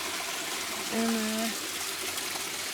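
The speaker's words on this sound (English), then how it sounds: "Beautiful little river." A small river flowing through the jungle in Trinidad, a steady close rush of water running throughout, with someone briefly speaking over it.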